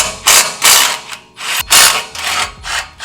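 A ratchet works loose 11 mm exhaust bolts on a BMW M4 GTS, giving several loud, close bursts of rapid clicking separated by short pauses.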